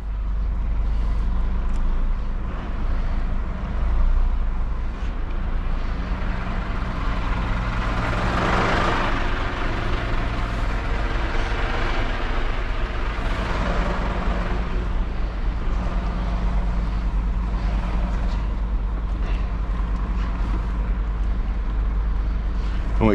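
A truck manoeuvring at a cramped unloading site, its engine droning steadily and close, with a brief rise in engine noise midway and a constant low rumble throughout.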